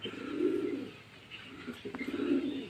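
Pigeons on a rooftop in drizzly, overcast weather give two low, throaty cooing phrases, one near the start and one near the end, close and fairly loud over light background noise.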